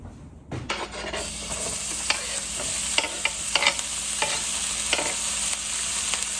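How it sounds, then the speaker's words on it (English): Onion sizzles and fries steadily in a pan at home while being stirred, with a constant close hiss and occasional scraping strokes, and no one speaks. "Let's get this onion in the pan."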